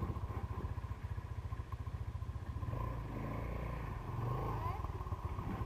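A Kawasaki KXR motorcycle engine putters and idles steadily with a rhythmic clattering pulse, then revs up briefly, close by, while someone talks over it.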